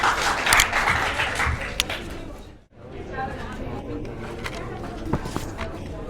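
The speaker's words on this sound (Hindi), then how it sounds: "तालियां बजाओ।" Audience applause at an honor ceremony for newly selected UP Police candidates: dense, steady clapping with crowd chatter for about two and a half seconds, a sudden drop, then quieter murmuring and scattered movement.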